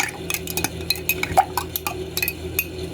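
A spoon stirs lemon, salt, chili and sugar syrup in a glass, giving repeated light clinks and scrapes in an uneven rhythm, close and fairly quiet.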